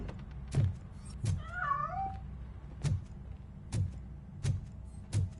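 A cat in a video game gives a single drawn-out, wavering meow amid repeated sharp knocks or thuds at a steady rhythm.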